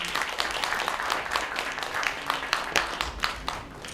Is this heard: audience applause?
yes